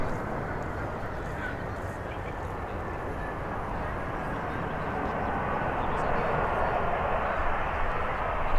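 An EasyJet airliner at Birmingham airport gives off a loud, steady, rumbling engine roar that swells slightly toward the end, heard from a moderate distance with no distinct voices.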